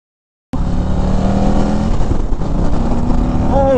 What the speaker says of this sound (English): This exhaust is pretty quiet for a CVO.